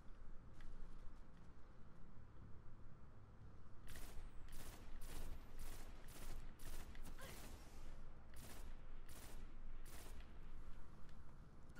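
Pulse rifle fire in the Destiny game, heard as a string of sharp, evenly spaced bursts that grow loud after a quieter, rumbling start, with no talking over them.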